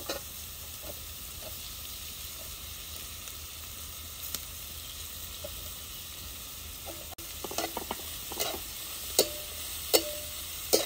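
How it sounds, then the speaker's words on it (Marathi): Carrots and capsicum sizzle steadily while being sautéed in a pan, a constant close frying hiss with occasional stirring scrapes and clinks toward the end. "पाच मिनिटं हे परतून घेणार आहे, कारण गाजर शिमला शिजायला वेळ लागतो"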